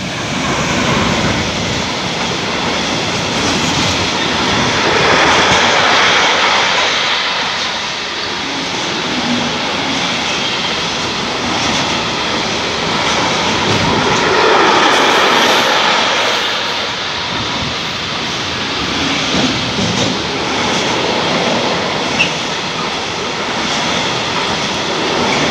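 A freight train hauled by a class 193 locomotive rumbles through Großkrotzenburg, a loud, steady broadband roar lasting throughout with gentle swells as the cars pass close by, no talking.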